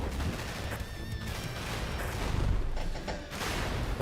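Small grenade-throwing enemies blow up in rapid succession in a chaotic shooter, a loud, dense barrage of bursts and gunfire-like pops with a few high tones over the din.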